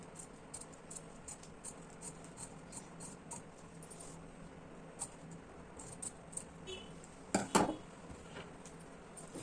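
Scissors snipping the front neckline of blouse fabric on a cutting table, faint scattered crisp clicks and rustles building to a louder cluster of cuts near the end.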